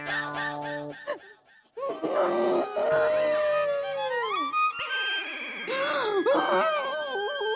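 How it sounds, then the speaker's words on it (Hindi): A woman cries loudly in a drawn-out, wavering wail that rises and falls in pitch, with a brief pause near the start before the sobbing resumes close and strong. "मेरे रोने की आवाज है।"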